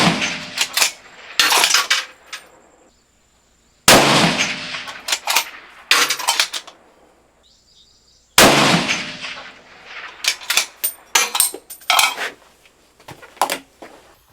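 A scoped rifle fitted with a TMB barrel tuner set to zero fires Hornady ammunition outdoors, giving several loud, sharp reports spaced a few seconds apart, each followed by a brief ringing decay and quiet handling noise.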